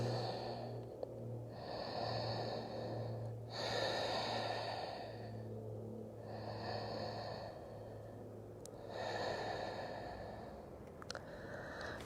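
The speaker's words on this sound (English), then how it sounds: "take 3 deep breaths" Slow, deep yoga breaths, about three long inhale-exhale cycles, audible close up and soft over a low steady hum in a quiet room.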